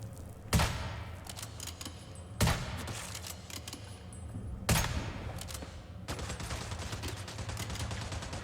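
Gunfire in the survival shooter Once Human: three sharp close shots, each followed by rapid automatic bursts, then a steady stretch of rattling fire toward the end.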